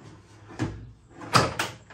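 A Camden Hells Lager keg slides into a Philips Perfect Draft home beer machine with two short scraping thuds, the second louder, close up and without talk.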